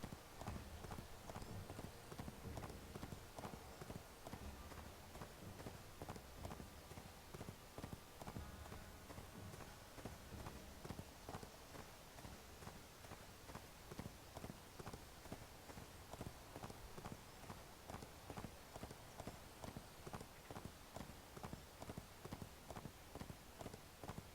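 Horse hooves clip-clopping at a steady trot in the online game ArcheAge, a continuous rhythmic patter of hoofbeats heard faintly throughout with no pauses.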